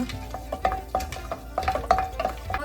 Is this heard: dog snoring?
no